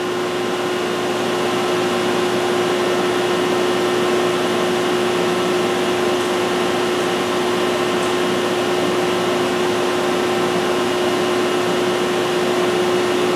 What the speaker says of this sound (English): I'm going to run a program.